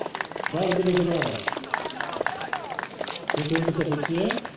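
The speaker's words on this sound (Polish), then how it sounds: "Bardzo duże brawa." Sustained clapping from an audience at a presidential awards ceremony rolls on throughout, with people speaking loudly over the applause.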